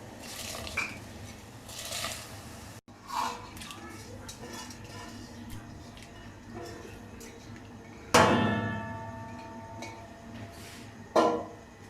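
Clinking and scraping around a metal pot, then a sudden rattling clatter as dry rice is poured into boiling water for beef biryani, ringing briefly before a final clank.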